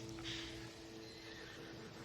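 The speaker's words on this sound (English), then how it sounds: "This is just a horse!" A horse in Assassin's Creed Odyssey gives a short, fairly loud neigh near the start, followed by softer snorting and faint hoof clops, with no talking.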